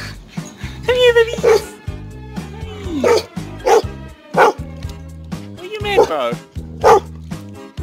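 Puppies barking and yipping in repeated high, bright bursts, close and loud, with short pauses between volleys and a whimpering tone in places.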